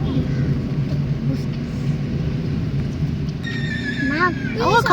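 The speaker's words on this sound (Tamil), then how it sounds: "ஆமா குதிரை சவுண்ட் இப்படி குதிரை" A horse whinnies near the end, a loud descending neigh that rises above a steady rumble of background noise and voices.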